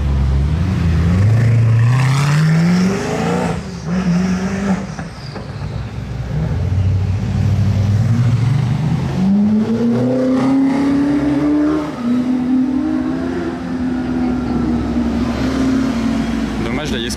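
A convoy of hypercars in Monaco accelerates past. Engine notes climb and fall in pitch as they rev, loud and close, while people talk over the passing cars.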